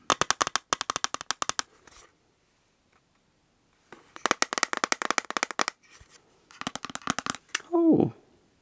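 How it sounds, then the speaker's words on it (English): Eyeshadow palette with a clear plastic cover handled up close: bursts of rapid crisp plastic clicks and taps, a pause, then more clicking, ending with a short vocal exclamation. "It sounds quite nice as well, because it's got the clear plastic on it."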